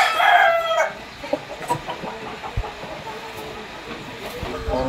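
Seven-month-old Sweater Gilmore gamefowl roosters on a gamefarm in Bulacan cluck and crow, with a loud crow at the start, then scattered clucks and calls over a busy background.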